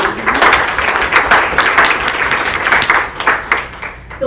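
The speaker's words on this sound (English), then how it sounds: "Let's give her a round of applause." A conference audience at a women's conference applauds steadily with loud, dense clapping that holds for several seconds and then begins to thin out.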